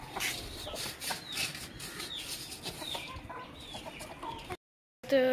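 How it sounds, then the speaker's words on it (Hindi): Desi hens clucking and squawking as they feed on roti scraps in the evening, a steady busy chatter of several birds close by, with a brief silence near the end. "ये देसी मुर्गी है।"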